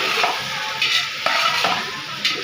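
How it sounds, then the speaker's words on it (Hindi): Chicken necks fry with garlic and ginger for a Punjabi-style pulao, a loud close sizzle broken by a few scraping stirs of a utensil against the pot. "ये थोड़ा इन्होंने लसन अदरक के नाल फ्राई करूँगी"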